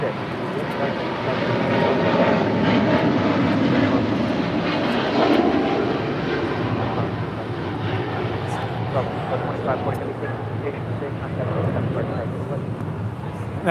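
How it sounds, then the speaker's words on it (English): A China Southern Cargo Boeing 777 freighter departs from LAX with a loud, sustained jet roar that swells early and then eases slightly, while someone talks over the engines. "That was China Southern Cargo 2540 departing to Guangzhou on a 777 freighter."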